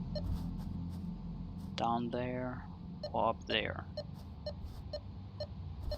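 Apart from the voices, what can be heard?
beeping in a video game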